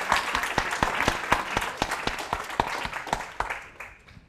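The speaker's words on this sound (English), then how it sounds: "I think we should just give them a hand of applause just to start with." An audience at an academic talk on auctions claps steadily for a few seconds, with sharp individual hand claps standing out in the dense applause before it thins and fades at the end.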